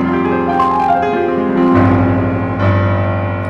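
Piano arpeggiated chords from a song, played steadily and close, with sustained overlapping notes rolling through a low bass line and no voice.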